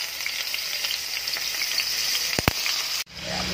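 Beef and broccoli frying in hot oil in a kawali, a loud, steady sizzle with a couple of sharp knocks before the sizzle briefly cuts out and then returns more quietly.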